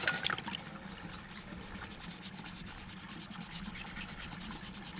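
Pipestone jewelry piece sanded by hand down to 800 grit: a steady, close rasping rub with rhythmic back-and-forth strokes, continuous and moderately quiet throughout.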